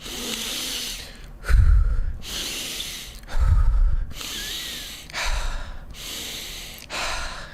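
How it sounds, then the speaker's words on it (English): Heavy, forceful breathing from a hyperventilation breathing exercise, loud and close, with strong inhales and exhales alternating about every second or two and no speech. "you're going to want to almost like hyperventilate with your breathing process"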